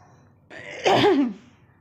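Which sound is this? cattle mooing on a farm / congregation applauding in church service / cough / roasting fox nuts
cough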